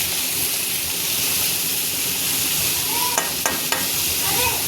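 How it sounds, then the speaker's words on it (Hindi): Potatoes and onions frying in a pan give a steady, even sizzle throughout, with a few faint clinks of a utensil near the end. "इसी के साथ हम आलू डाल देते हैं, और प्याज के साथ ही मेरी आलू भी थोड़ा सा क्रिस्पी हो जाएगी"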